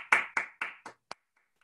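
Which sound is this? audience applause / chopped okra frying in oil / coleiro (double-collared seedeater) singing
audience applause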